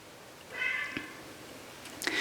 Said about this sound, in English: sometimes my cat just has to appear in a video, or at least the sound of video